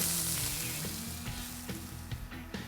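Butter bubbling and sizzling in a Teflon frying pan, a steady, close hiss with small crackles and pops scattered through it.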